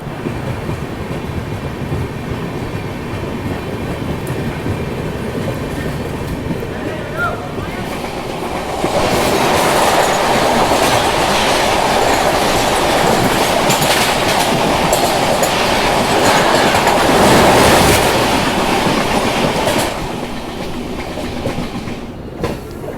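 The Tamil Nadu Express passenger train runs on rails with a steady, loud rumble and rattling wheels. The noise swells louder midway and then eases off, and no voices are heard.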